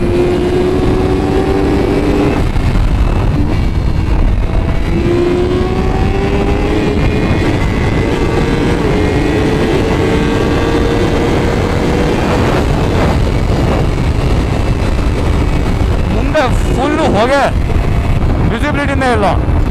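A 2025 Honda CBR1000RR-R Fireblade SP inline-four motorcycle being ridden, its engine rising and falling through revs while a rider talks over it almost continuously.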